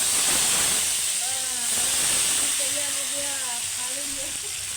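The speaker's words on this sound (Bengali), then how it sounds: "খিচুড়িতে ফোড়নটা দিয়ে দিচ্ছে বোন।" Whole spices and red green chillies hit hot oil as the tempering goes into khichuri, a loud steady sizzling hiss throughout, with a voice talking over it.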